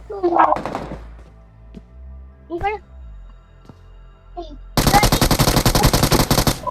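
Gunfire in the mobile battle-royale game BGMI (PUBG Mobile) breaks out near the end as a loud, rapid automatic burst, after a stretch of game sounds and a few brief voice-like blips.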